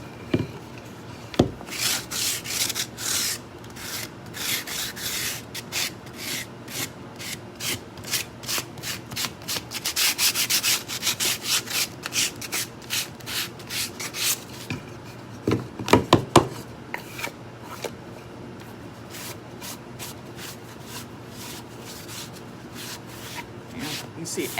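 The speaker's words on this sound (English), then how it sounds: "anytime you sand, you always want to wipe down because you don't want any of the extra crud that you created from sanding" A Plastertex texture finish is hand-sanded in repeated rasping strokes, close and fairly quiet, in uneven bursts with short pauses and a couple of louder knocks along the way.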